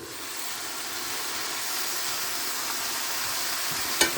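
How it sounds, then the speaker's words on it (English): Cooked cabbage and onions get stirred in a hot pan, giving a steady close sizzling hiss throughout with a brief utensil clink at the very end. "So we're going to uncover this now and give everything a mix."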